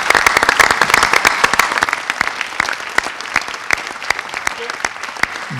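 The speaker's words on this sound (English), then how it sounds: "she should get a round of applause for what she just did" Audience at a youth town hall in a high school breaks into loud applause, dense clapping that stays strong throughout and then thins slightly toward the end.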